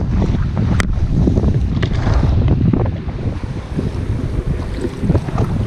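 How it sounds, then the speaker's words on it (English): Steady wind gusting over a small fishing boat on open water during a summer bass trip, a loud broadband rush with buffeting against the microphone and faint lapping water beneath, continuous throughout with no talking. "Dealing with this wind, the weatherman lied today."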